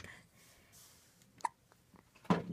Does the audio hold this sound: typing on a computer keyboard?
no